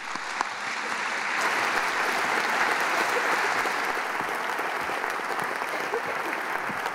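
Sustained audience applause welcomes Professor Rosenbaum to a lecture on quantum solutions to complex problems, a dense, even wash of many hands clapping that holds steady for several seconds without fading.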